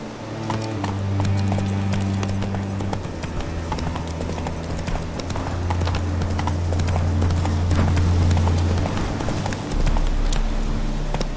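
Roach the horse gallops in The Witcher 3: Wild Hunt, with steady, rapid clip-clop hoofbeats running continuously at close range over a sustained musical backdrop for the whole stretch.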